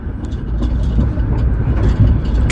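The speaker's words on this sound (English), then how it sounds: "Because it's so windy outside" Strong wind buffets and rattles an RV parked in windy Kansas, a loud, steady low rumble with no pauses and no voices.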